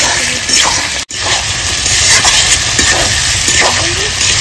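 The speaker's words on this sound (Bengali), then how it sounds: "এবার আলুর সঙ্গে মশলাটা আমি খুব সুন্দর করে কষিয়ে নেব" Fried potatoes sautéed with spice masala in a pan, a loud, dense sizzle running throughout with soft scraping strokes of the spatula, close and continuous.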